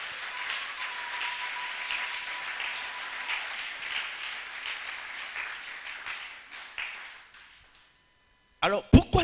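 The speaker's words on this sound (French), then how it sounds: "On acclame." An audience at a prophetic church sermon applauds and cheers for several seconds. The sound is fairly loud and steady, then fades out. After a brief pause, a few sharp sounds follow.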